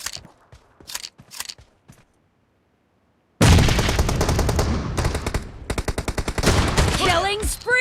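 M10 shotgun fire in PUBG Mobile: a few sharp shots, a brief silence, then dense, loud, rapid gunfire bursts that keep going to the end, with short game voice callouts mixed in.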